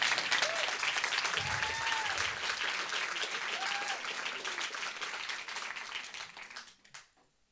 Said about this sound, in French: Je vous prie de faire un tonnerre d'applaudissements pour Paul et Ninon